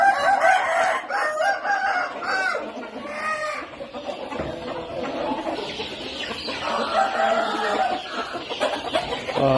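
Young chickens, freshly caught and penned in a farm coop, cluck and call in a busy overlapping chorus, with rooster-like crowing mixed in and close, loud bursts throughout.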